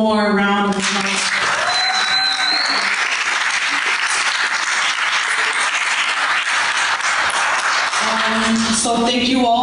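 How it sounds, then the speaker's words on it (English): Sustained crowd applause at a university town hall and teach-in, steady and full for several seconds, with a speaking voice briefly at the start and again as the clapping ends. "one more round of applause"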